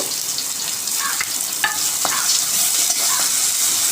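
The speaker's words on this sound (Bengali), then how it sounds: "লঙ্কা দিয়ে দিলাম, আর দিয়ে দিলাম পেঁয়াজ কুচি। এটা লাল লাল করে ভেজে নেব" Chopped onion and chilli fry in hot oil with black cumin in a pan, a steady, close sizzle with occasional light stirring clinks throughout.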